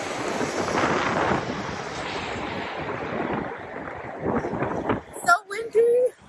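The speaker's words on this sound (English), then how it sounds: "So windy." Strong gusty wind buffets the microphone outdoors, a loud, steady roar that runs for several seconds before easing, with a few brief voice-like sounds near the end.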